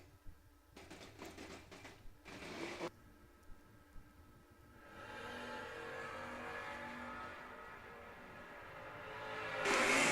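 A Ford-powered Ford Mustang drag car at Numidia Dragway. Faint, distant engine noise with a few short bursts swells into a sustained roar, then surges louder at the very end.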